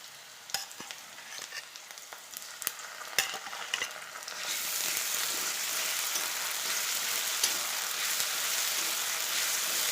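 Spinach and shrimp frying in a pan as mustard paste goes in, with a few scrapes and knocks of the stirring spoon, then a steady, close sizzle that swells and holds loud and even.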